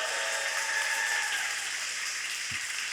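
A studio audience applauds steadily for the full stretch, a dense, even wash of clapping with no voices over it.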